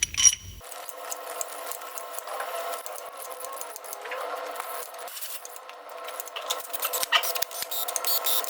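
Ratchet wrench tightening bolts into an engine cylinder head on an AXOR truck engine being assembled on a repair block, a steady run of close, rapid mechanical clicks lasting throughout with brief pauses between strokes.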